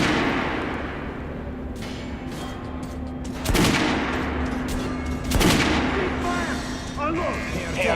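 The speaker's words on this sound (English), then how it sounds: "Head over to my range and try out the guns" Guns fired on a shooting range in Metro Last Light Redux, with scattered sharp shots and two louder blasts standing out over a steady background hum, a voice speaking now and then between them.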